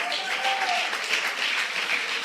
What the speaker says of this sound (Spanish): Dale más fuerte ese aplauso a Él.